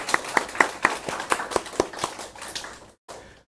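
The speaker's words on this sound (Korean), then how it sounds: "우리 박지아 자매에게 격려의 박수를" Light clapping from a small congregation at a weekday church service, a few distinct hand claps in a quick uneven rhythm, fairly soft, tapering off and stopping after about three seconds.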